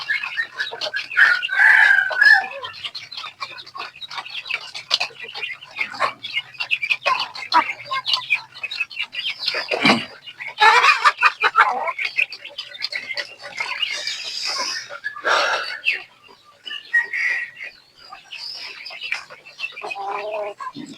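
Chickens calling in a steady jumble, a sick rooster's crow rising among repeated clucks and cackles, close and fairly loud throughout.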